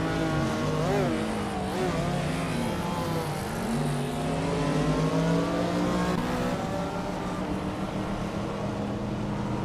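A 1988 Porsche 944 Turbo race car engine in a racing video game, loud and continuous, revving and shifting through gears with rising and falling pitch alone.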